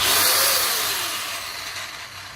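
A Dawreek NBA115 720W angle grinder motor runs up and whirs steadily, a loud close high-pitched hum with no talk, easing off slightly toward the end.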